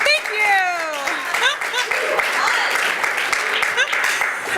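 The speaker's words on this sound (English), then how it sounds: "A nice rousing round of applause this afternoon" A campus audience gives a rousing round of applause, dense steady clapping throughout with a voice speaking over the start.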